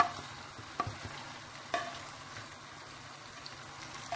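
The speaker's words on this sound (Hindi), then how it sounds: "और इनको अच्छी तरीके से मिक्स करना है" A spoon stirs biryani masala with tomatoes, cumin powder, chilli and salt in a pot, giving a few soft scrapes and light clinks over a faint sizzle, fairly quiet and with no voices.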